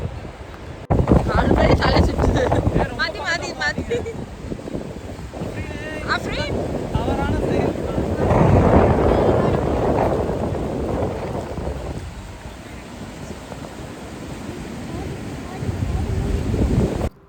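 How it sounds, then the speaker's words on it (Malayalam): Strong rushing river water near Montreal, Canada, a broad roaring wash buffeted by gusts of wind noise on the microphone, with a voice speaking over it early on. "അത്രയും ശക്തിയായിട്ടാണ് ആ വെള്ളം പോകുന്നത് കേട്ടോ"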